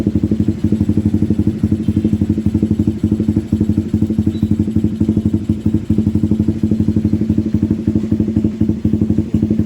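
A motorcycle engine idles steadily nearby while its battery voltage stays at 11.4 volts, not charging, its rapid, even putter continuing loud and unbroken throughout with no voices.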